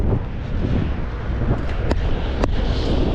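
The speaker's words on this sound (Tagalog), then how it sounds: "Lakas ng hangin." Strong wind buffeting outdoors, a constant heavy rumble with a couple of sharp gusty pops, loud and close throughout.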